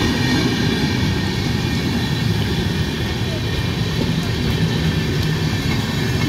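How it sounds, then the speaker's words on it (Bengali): Up Kulip Express, also known as the Howrah–Radhikapur Express, running towards Bandel Junction, a loud steady rumble and roar of the moving train sustained throughout with faint rattling and no distinct voices. "Up পুলিক express Bandel railway junction অভিমুখে যাচ্ছে।"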